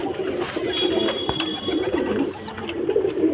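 A Punjabi Malwai breed female pigeon with dark eyes, white beak and white feet coos in low, throaty repeated pulses close by, with faint bird chirps in the background.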